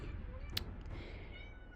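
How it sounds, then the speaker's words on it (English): A house cat gives a short, faint meow in the background under soft game music, a single brief call partway through. "Sorry about my cat."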